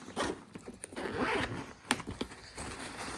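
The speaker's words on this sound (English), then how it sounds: "so I'll just put this zip back up" A zipper is pulled closed on a motorcycle touring bag, close and fairly quiet, a run of short rasping strokes with a few sharper catches partway through.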